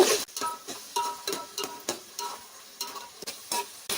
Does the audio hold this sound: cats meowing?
no